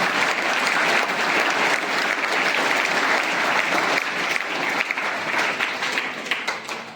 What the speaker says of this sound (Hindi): आपका भी तालियां बजाकर अभिनंदन।